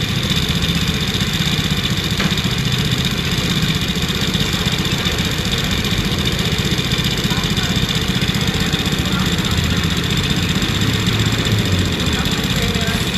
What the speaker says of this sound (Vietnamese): Đây thì tiếng máy này,